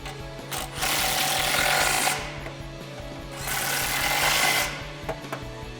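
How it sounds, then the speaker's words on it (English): A ratchet with an extension and a 13mm deep socket tightens bolts on a Roush cat-back exhaust being fitted to a 2015-2019 Mustang EcoBoost. Two sustained rasping runs of rapid clicking sound up close, separated by a brief pause. "grab your extension and the 13 deep socket and tighten those down."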